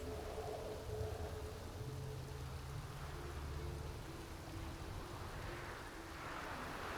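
Rain falling in The Witcher 3, a quiet, steady wash of hiss with no voices over it.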